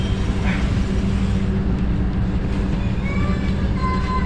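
Moving passenger train bound for Radhikapur near the India-Bangladesh border, heard from inside a compartment as a loud, steady low rumble of wheels and carriage with faint higher squeals, no talk.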